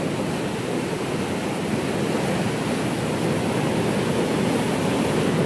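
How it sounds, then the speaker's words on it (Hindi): Ganga water rushes out through a barrage gate at Narora into the Hazara canal, a loud, unbroken roar of turbulent water that stays constant and close, with no voices over it. "यहाँ पे कितनी ज़्यादा आवाज़ हो रही है भाई, पानी को जो फाटक से भाई निकल रहा है"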